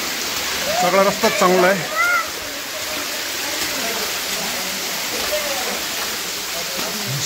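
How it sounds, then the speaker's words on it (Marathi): Heavy rain pours steadily at Lohagad fort, a dense, even hiss that lasts the whole time, with a person speaking briefly near the start over the downpour. "खूप पाऊस पडतोय"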